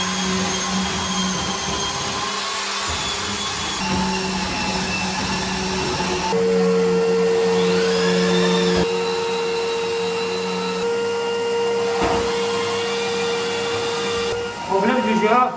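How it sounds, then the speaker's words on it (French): A drywall sander of the long-armed giraffe type sands walls with a steady, loud motor whine that shifts in pitch as the speed changes, running close and continuously throughout. "Si je veux que je fasse un ponçage brut, je monte la vitesse."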